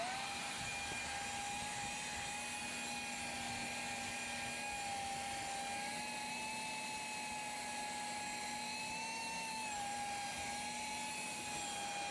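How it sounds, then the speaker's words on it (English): A shop vac hose pushed into a bathroom exhaust fan duct sucks out standing water with a steady, loud motor whine and airy roar, holding a constant pitch throughout with no voices. "I'm going to stick this hose down in there and I'm going to vacuum out the water"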